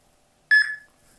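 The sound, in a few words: beep from QR scanner app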